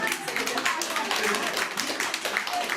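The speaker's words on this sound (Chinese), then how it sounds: "掌声鼓励" Applause at a piano score press event, a brief patter of clapping from a small audience, with a voice speaking over it.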